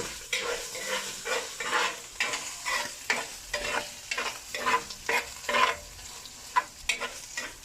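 Longaniza sausage frying in a pan, a steady close sizzle broken by repeated scraping and stirring strokes at a brisk, irregular rhythm, with no voices.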